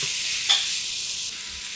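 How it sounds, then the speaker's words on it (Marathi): Sliced, washed cabbage hits hot masala in a pan with a steady, close hiss of sizzling oil, broken by a single soft scrape of stirring; no voices. "आता कोबी जो आपण स्लाईस करून धुवून घेतला हा यामध्ये घालूयात हा या मसाल्यामध्ये कोट करायचा"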